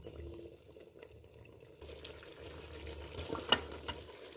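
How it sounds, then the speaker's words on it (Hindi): Beef paya trotters fry gently in a spice masala in a pot, a soft sizzle under intermittent stirring scrapes, with a sharper clink near the end, fairly quiet and close. "अब थोड़ी देर हम इन्हें भूनेंगे"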